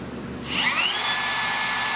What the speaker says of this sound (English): But I want to drill a hole.